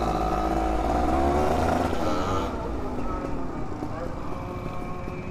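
A Yamaha V80 motorcycle fitted with a turbo sets off with a loud, rough engine drone that eases after a couple of seconds, while voices talk over it.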